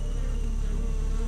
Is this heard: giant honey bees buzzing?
yes